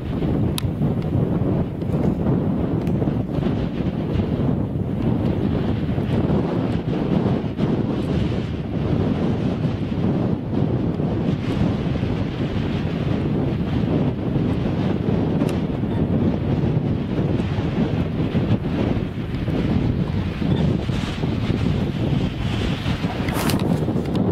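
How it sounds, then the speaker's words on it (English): Wind buffeting an outdoor microphone, a continuous loud low rumble and roar with gusty fluctuations throughout, nothing else clearly audible over it. "Sorry about the wind."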